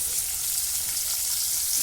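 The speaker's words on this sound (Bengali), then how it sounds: "পেঁয়াজটা দিয়েও ভালো করে আমি নাড়াচাড়া করে ভেজে নেবো" Chopped onion frying in oil for a jackfruit curry, a steady close hiss of sizzling with no distinct stirring strokes and no voices.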